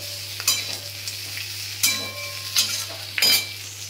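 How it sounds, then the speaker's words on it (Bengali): Tomatoes, firm and seeded, stirred into a hot pan for a Bengali dish cooked Chinese-style, with a soft steady sizzle broken by four or five sharper scraping stirs of a spatula against the pan. "আর এই টমেটোগুলোও দিয়ে দিচ্ছি, একটুখানি নেড়ে নেবো।"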